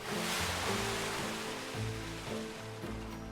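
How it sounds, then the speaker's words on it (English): Rushing waterfall in the Planet Coaster park-building game, a steady broad wash of water with low watery churn and occasional splashing pulses, heard alone. "Nice waterfall there"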